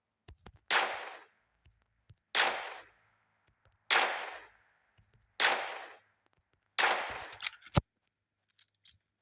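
Five sharp gunshots in PUBG, evenly spaced about every one and a half seconds, each a crisp crack with a short decaying tail, with a few faint clicks between them.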